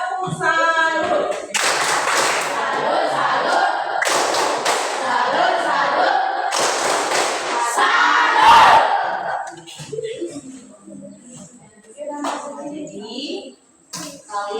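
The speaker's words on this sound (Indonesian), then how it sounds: "Sekali lagi tepuk salut." Schoolchildren clap a patterned 'tepuk salut' routine together, loud grouped bursts of claps and thuds with shouting voices. The clapping fades into quieter scattered sounds and brief talk toward the end.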